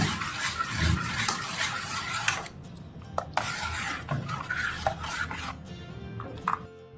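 A spoon stirs chili paste into a date chutney for bhajiya. Close, soft scraping and swishing against the bowl is broken by a few sharp clinks of utensil on dish.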